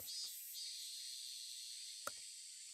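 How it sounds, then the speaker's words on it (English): Cicada chirping in the Higurashi: When They Cry Hou video game, a faint, steady high-pitched buzz that runs through the whole stretch, broken by a couple of brief clicks. "Okay, the cicada here is nice."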